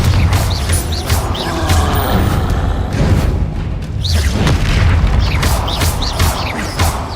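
Explosive Confringo spell blasts and magical combat effects in Hogwarts Legacy, a loud, dense barrage of booms, whooshes and crackling bursts filling the whole span without pause.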